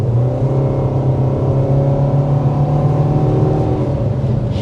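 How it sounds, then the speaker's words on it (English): The 2-liter four-cylinder engine of a 2025 Nissan Kicks pulls at full throttle with a steady, loud droning hum. The tone climbs slightly as the car accelerates, heard from inside the car. "when you do a full throttle acceleration, it's not going to be like super fast or anything"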